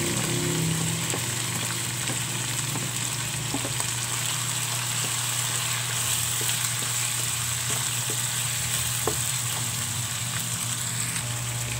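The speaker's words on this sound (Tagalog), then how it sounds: "lagay na natin ang ating pork slice into small cubes" Small cubes of pork sizzle in a pan for sautéed shrimp paste (ginisang bagoong alamang), a loud, steady, close frying hiss with occasional light ticks and pops throughout.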